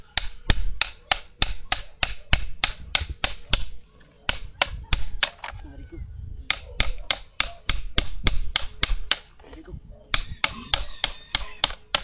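A hammer strikes repeatedly in fast, evenly spaced blows, pausing twice before resuming, likely flattening metal stock at a workbench; the pounding is loud and close, and faint voices murmur in the background.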